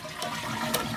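A household toilet with a running-water fault flushes after its lever is pulled, giving a close, steady rush of water that fills the whole short moment with no voices.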